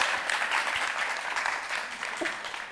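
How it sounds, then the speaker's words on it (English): Audience applause following a film screening at a public event: dense, steady clapping from a seated crowd, moderately loud and continuous for a few seconds without any talk over it. "we do another round of applause for that"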